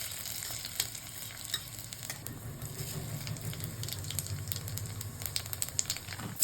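Dry red chillies and black cumin seeds frying in hot oil for a vegetarian pumpkin mash, giving a steady low sizzle with stirring clinks and scrapes throughout, fairly close and alone.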